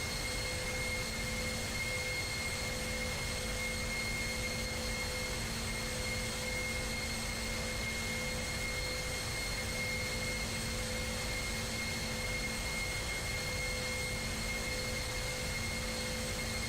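Steady jet engine roar from a Boeing 747-400F cargo jet in a flight simulator, a continuous broadband drone with sustained tonal hums, heard alone without talk.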